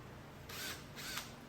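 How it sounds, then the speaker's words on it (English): Two brief whirring bursts from a power drill with a countersink bit pre-drilling screw holes in wood, each about half a second, separated by a short pause. "and then I'll pre-drill"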